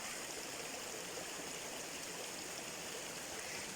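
Flowing water, like a steady stream or small waterfall, rushes continuously with a broad, even hiss throughout, with no voices present.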